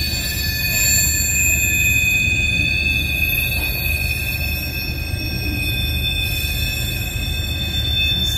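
A CN freight train led by EMD locomotive BCOL 4642, with a rear distributed power unit, works at Ladysmith. It gives a loud, steady diesel rumble with high, sustained wheel-squeal tones throughout, and no voices.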